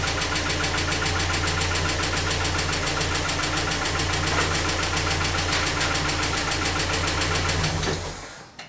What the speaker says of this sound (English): Check idle. Idle's good. That lifter tick sucks.